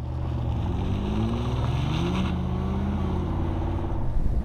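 A BMW Z4 with high mileage driving on the road, heard as a steady engine drone and road rumble from inside the car, continuous and fairly loud with no talking.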